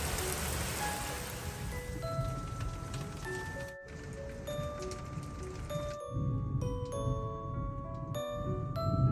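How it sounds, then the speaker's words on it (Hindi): Heavy summer storm rain pouring outside a home, a dense continuous patter on surfaces with scattered drips, mixed with light tonal dings and tinkles, steady throughout with no talking. "थोड़ी ही देर में काफ़ी बरसात भी होने लगी"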